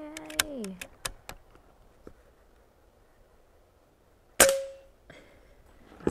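Diana Stormrider air rifle fired at targets, a series of sharp close cracks and pings, several quickly in a row at first, then a louder ringing metallic clang of a hit later, with quiet gaps between.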